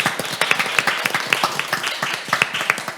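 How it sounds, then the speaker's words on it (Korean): A modest audience at a panel discussion claps for the final panelist, with sparse, distinct handclaps ringing out in an uneven patter rather than a full roar. "마지막 토론자셨던 김경애 선임연구위원님께 다시 한번 박수 부탁드립니다"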